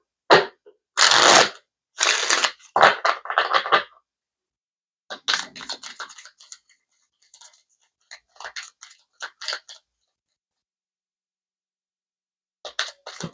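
Tarot cards shuffled by hand at close range in a quiet room, giving bursts of crisp riffling and tapping, a couple of short shuffles with pauses between and a few faint card clicks near the end.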